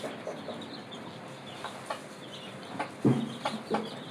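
Young chicks and ducklings kept at a small home hatchery give scattered soft peeping and clucking calls at a moderate distance, faint at first, then louder in a cluster of chirps toward the end.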